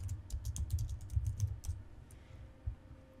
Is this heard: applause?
no